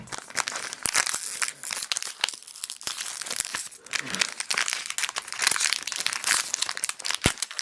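A foil wrapper of a Japanese Pokemon booster pack crinkles and tears as someone struggles to open it, giving close, irregular bursts of crisp rustling and crackling with no one speaking.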